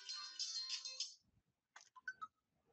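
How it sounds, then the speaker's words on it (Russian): A phone's electronic ringtone chimes in a steady pulsing pattern for about a second with no one answering the call, then stops; after a short silence a few faint clicks and brief tones follow. "У Пупкина звонит телефон, он не поднимает трубку"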